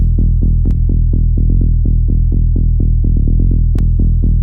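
A darker, EQ-filtered tech house bass line repeats a syncopated groove of rounded plucked notes, loud and steady, with a couple of faint bright ticks and no talking.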